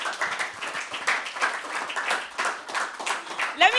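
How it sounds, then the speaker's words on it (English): An audience at a pageant talk show applauds a judge, a lively patch of clapping that fills the room close and steady, with a brief squeak or tone breaking in at the very end. "A round of applause for her, please."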